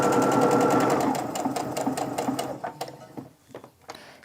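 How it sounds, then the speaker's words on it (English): A sewing machine stitches quilt seams joining 60-degree triangle pieces, running in a loud, rapid, steady whir at first, then breaking into slower, uneven bursts of stitching before stopping, close by and with no talking. "go ahead and sew down the rest"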